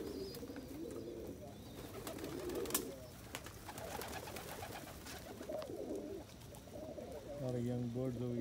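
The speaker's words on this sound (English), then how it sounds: "A lot of young birds over here." Young pigeons coo softly and repeatedly nearby, low throaty calls over faint rustling and other background sounds, while feeding on wheat.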